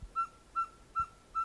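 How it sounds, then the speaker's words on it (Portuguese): A ferruginous pygmy owl in the Caatinga gives four evenly spaced, clear single-pitched toots, close and alone against a quiet background. "Essa é a coruja caburé que a gente já trouxe vídeo aqui no canal"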